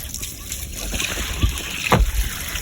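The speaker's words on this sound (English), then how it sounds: "Making sure that the water is flowing" Water from a tiny house's toilet and shower pan drains down through pipes during a system test, a soft running flow with a couple of splashy gushes, voices faintly in the background.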